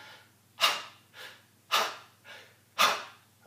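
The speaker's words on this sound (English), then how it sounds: "then I breathe back in again, and then breathe" Slow singing breathing exercise with three loud, breathy exhales alternating with softer inhales in a steady rhythm, close and alone without talk.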